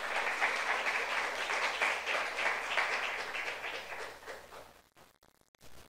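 A church youth congregation clapping during a sermon, a dense, even roll of applause that holds steady, then fades and breaks off abruptly, leaving a few faint scattered sounds.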